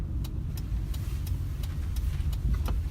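Interior of a car being driven on a road, a steady low engine and road rumble with a row of faint regular clicks like a turn signal, no talking.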